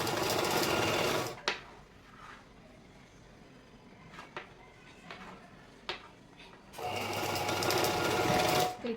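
A sewing machine stitching a blouse runs in two loud, fast, continuous bursts at the start and end, separated by a quieter stretch of small clicks and handling sounds.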